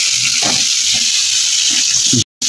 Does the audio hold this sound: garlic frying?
yes